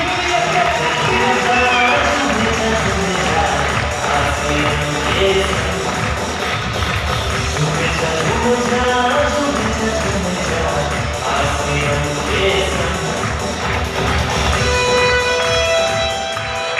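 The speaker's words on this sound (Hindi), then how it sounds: "एक बार इन चेहरों के लिए जोरदार ताली हमारे" Audience at a youth carnival event in New Delhi breaking into long, dense applause and cheering, an even roar of clapping from a large crowd that holds steady throughout.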